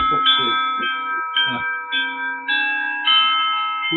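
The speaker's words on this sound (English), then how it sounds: "Saved by the bell, right? Someone is at the front door." A doorbell chimes at the front door of a home, a string of clear ringing tones repeating several times over roughly four seconds, loud and close, with a few voice-like murmurs in between.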